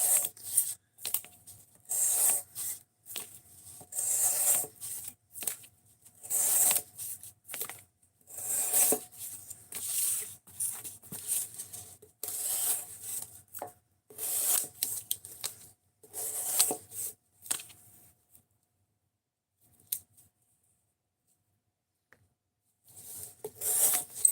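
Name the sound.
knife being sharpened on a sharpening stone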